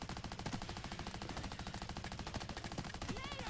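Light machine gun in the video game Payday 3 firing one long continuous burst, rapid evenly spaced shots rattling densely and loudly from start to finish, with faint voice chat underneath.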